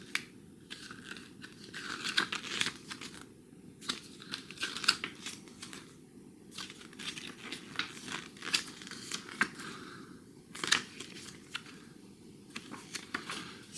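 Pages of a deluxe-edition CD booklet for Duran Duran's Paper Gods being turned and handled, giving close, soft paper crinkles and rustles in scattered bursts with no talking.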